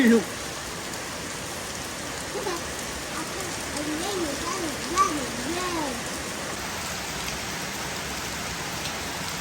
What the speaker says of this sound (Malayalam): ആ മഴ വന്ന പോലെ തന്നെ പോയിട്ട് നന്നായിട്ട് ശരിക്കും പെയ്തു